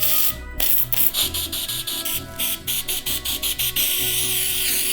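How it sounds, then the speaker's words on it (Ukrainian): Short hissing sprays of artificial snow from an aerosol can, repeated in quick bursts with brief gaps, close and fairly loud, no voices. "Також ми знайшли кілька видів снігу в балончиках."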